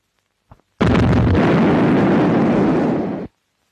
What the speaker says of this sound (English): The breech closes and is lowered, thus elevating the muzzle ready for firing.